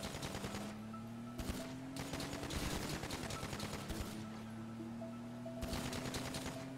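Gunfire in GTA Online, rapid automatic bursts crackling over a steady engine drone, with pauses between volleys and the shooting returning loudly near the end.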